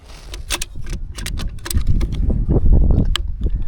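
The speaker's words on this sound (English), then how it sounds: "Click it in" A battery is clicked into a GNSS base unit: a quick run of sharp plastic clicks and rattling handling noises, close by and without speech.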